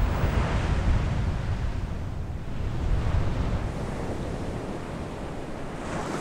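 Sea waves on the coast of Península Valdés, Argentina: a continuous, fairly loud wash of surf with wind noise and gentle swells of rumble throughout, no voices.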